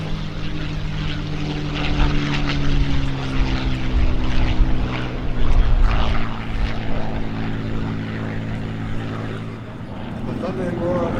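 Deep, steady drone of a P-51 Mustang piston propeller engine at an airshow, running loud and close, a throbbing roar that holds throughout with a voice speaking underneath.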